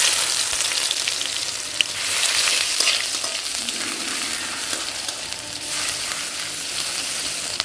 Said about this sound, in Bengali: আদা রসুনটা হালকা ভেজে নিয়েছি